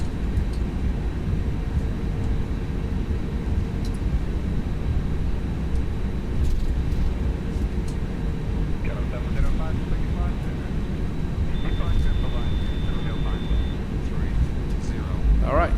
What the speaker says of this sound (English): And we have clearance for takeoff.